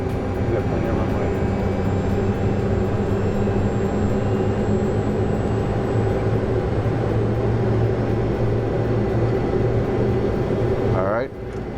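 Boeing 737 engines in a flight simulator spool up for the takeoff roll as a loud, steady, broadband roar that holds evenly before cutting off abruptly near the end.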